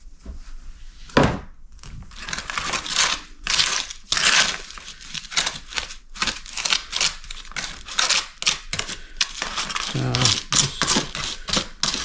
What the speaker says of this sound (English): Just crush down any of the larger bits of the grout mix